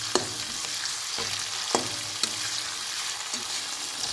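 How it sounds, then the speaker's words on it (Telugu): Onions and ginger-garlic paste fry in a pan for a fish-roe curry, giving a steady close sizzle broken by several sharp scraping spatula strokes at irregular intervals, with no voices. "అల్లం వెల్లుల్లి పేస్ట్ పచ్చిపోయేంత వరకు వేగనిస్తే కర్రీ టేస్ట్ బాగుంటుందండి"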